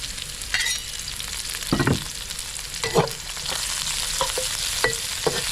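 Onions frying in a hot pan, stirred with a utensil: a steady bright sizzle runs throughout, broken by several scraping, clattering stirs at irregular intervals, close and fairly loud with no voices.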